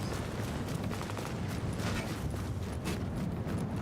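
Distant gunfire in The Division: Survival, a scatter of faint, muffled shots and short bursts popping irregularly against a steady background hiss.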